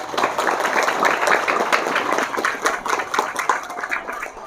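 An audience claps for children who memorized Surah Yasin at a religious lecture, a continuous, moderately loud patter of applause with a bit of voice underneath.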